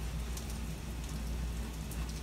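Heavy rain pouring steadily during a severe thunderstorm with hail in south-east Michigan, with a dense, constant hiss and a deep low rumble underneath, no voices.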